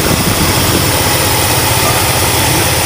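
A carbureted Dodge Charger just taken out of storage runs after a cold start, its engine droning in a loud, steady, even idle close by.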